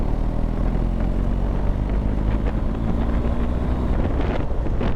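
A BMW R 1250 GS Adventure motorcycle pulled at full throttle from 2,000 RPM, a loud sustained engine drone heavily buried in constant wind roar.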